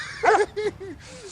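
A dog makes a few short, high whiny yelps close by, in quick uneven bursts, with faint background noise between them.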